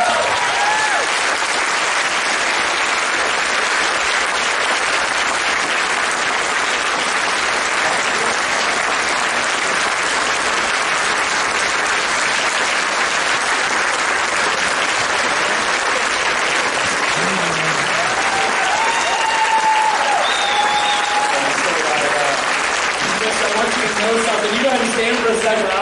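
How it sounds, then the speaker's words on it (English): A church congregation at an Easter service keeps up steady, loud applause and clapping, with crowd noise and a few voices rising through it. "Folks are clapping. Listen, they are clapping for you"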